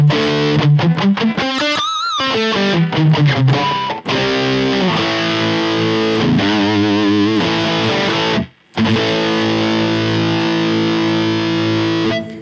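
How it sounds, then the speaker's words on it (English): Distorted electric guitar playing chords and melodic lines through a Vox Tonelab SE hall reverb, drenched in a spacious, lingering reverb, with a brief pause near the end before the tones ring on. "I'm using a hall reverb here"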